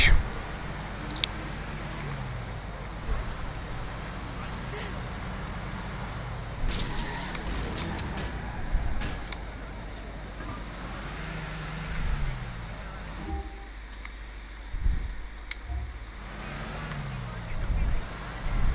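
Car engine running steadily while driving in GTA 4 The Lost and Damned, a low continuous rumble with traffic noise around it and occasional voices over the top.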